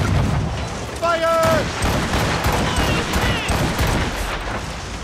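Ship cannons fire in a naval battle in the Assassin's Creed Rogue video game: dense booming volleys and crackling blasts fill the scene, with game voices shouting over the barrage.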